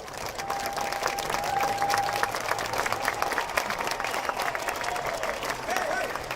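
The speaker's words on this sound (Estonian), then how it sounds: "tervitame veel kord suure aplausiga kõiki emasid." Sustained audience applause at a Mother's Day concert, a steady wash of clapping in honour of the mothers, with a few faint voices mixed into the crowd.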